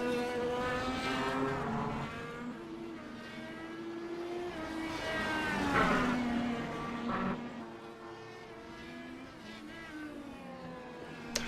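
An IndyCar race car held at full throttle in the iRacing game at Road America, a high buzzing engine whine with rising and falling pitch as it shifts through gears, steady and close with no talking.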